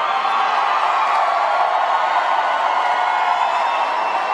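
A live CrossFit crowd cheers and roars inside Kezar Pavilion, a dense, continuous wash of voices and noise that stays loud and even without a break.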